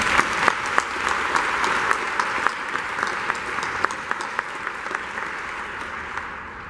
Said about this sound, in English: Let's give Alabama Power a round of applause